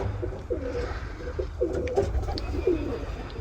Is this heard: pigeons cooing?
yes